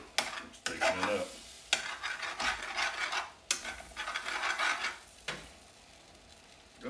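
Sausage gravy thickening in a pan as it comes to a boil, stirred with a spoon: steady close scraping and bubbling sizzle, with sharp clacks from the spoon at intervals.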